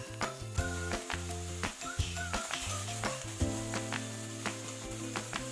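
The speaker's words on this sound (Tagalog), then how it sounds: "stir fry muna natin ang ating chicken. Hanggang mag-golden brown ito." Chicken stir-fries in oil until golden, a close sizzling crackle broken by regular scraping and tapping of the spatula, under steady background music.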